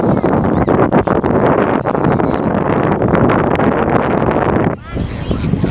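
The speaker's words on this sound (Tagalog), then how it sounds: "Uy, lakas ng hangin" Loud, blustery wind buffets the microphone in a continuous roar, with brief voices mixed in and a sudden drop in intensity near the end.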